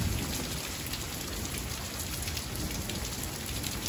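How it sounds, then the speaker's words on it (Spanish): Heavy rain pours steadily during a winter thunderstorm in the San Fernando Valley, a dense, loud, even hiss of drops hitting surfaces with no breaks and no voices. "bastante pesada la lluvia"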